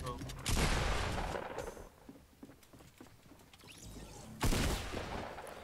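Two loud bursts of rapid gunfire in Fortnite, one near the start and another near the end, with quieter scattered clicks and thuds between them.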